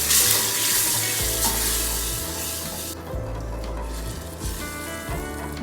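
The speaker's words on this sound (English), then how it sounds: "And now add lemon water." Lemon water hits a hot pan of oil mixed with beetroot powder, giving a loud, steady sizzle that flares at the start and settles into continuous frying hiss, with no talking.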